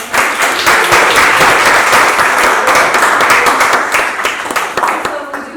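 Audience applauding after a history lecture on the 1886 Great Southwest Railroad Strike in San Angelo, a loud, dense burst of clapping sustained throughout and thinning slightly toward the end, close to the listener.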